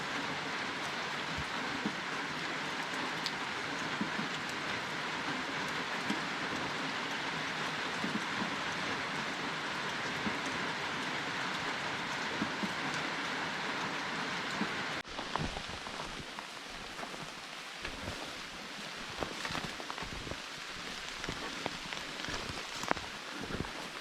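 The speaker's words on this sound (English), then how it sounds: "with all this rain" Steady rain falls outdoors on an Alberta homestead near a pond. A constant dense hiss of drops continues throughout, and the texture changes partway through as more scattered close patters come forward.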